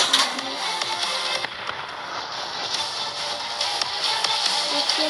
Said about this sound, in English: Two bombs came in and one missed.